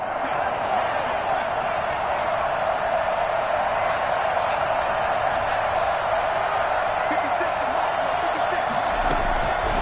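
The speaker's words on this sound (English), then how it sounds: "Listen to this crowd now." A dense, loud American football stadium crowd roars and cheers continuously during a 2-point conversion attempt, a broad wall of sound with a swell near the end.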